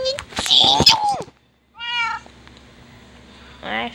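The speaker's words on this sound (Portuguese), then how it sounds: "um gatinho pretinho" A small black cat meows in the Minecraft video game, a few clear, close mews that come after a burst of voice and are separated by short pauses.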